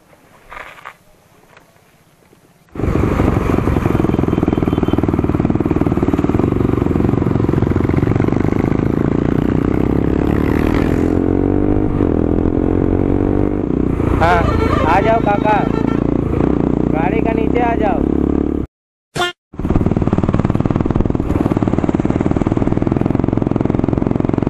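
Motorcycle on a Sunday ride near Gangdua Dam, a steady loud engine drone with wind rush and clatter that runs almost continuously after a quiet start, dropping out briefly near the end.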